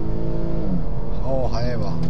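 A Nissan Skyline 350GT Hybrid's 3.5-litre V6 starts and revs loudly toward 7000 rpm in quick rising sweeps under close talking.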